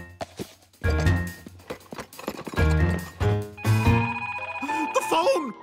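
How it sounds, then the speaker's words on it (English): In a Curious George cartoon, a telephone bell rings in clear repeated trills, with animated characters talking and reacting over and between the rings. "The phone!"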